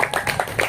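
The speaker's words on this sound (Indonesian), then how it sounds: "Yo, tepuk tangan untuk kelompok 1." Short burst of hand clapping from a small group of students in a classroom, several quick claps over under a second.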